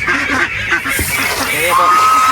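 Geese honking at feeding time on a Philippine duck and goose farm, fed rice bran and whole yellow corn. A run of short nasal honks, some overlapping, sounds close by, with a person talking over them.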